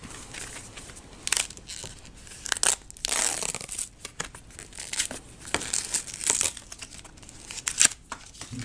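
Crinkling and tearing of plastic packaging as a Skin Cushi iPhone 4/4S case is unwrapped, steady close crackles and crunches with no talk.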